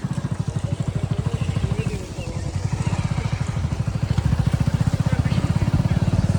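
A motorcycle engine putters nearby with a fast, even thumping beat, slightly rising and falling as it moves slowly while parking in a row of bikes at a temple.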